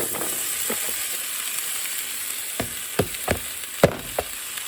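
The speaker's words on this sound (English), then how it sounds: "So I'm going to saute one onion, a little bit ginger, garlic." Onion, ginger and garlic frying in a pan, a faint continuous sizzle with a few sharp scraping stirs clustered toward the end, close-up and without any voices.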